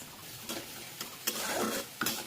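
Soya chunks and potatoes fry together in a pan over a gas flame while being stirred, a steady sizzle broken by a few sharp scraping knocks of the spoon against the pan.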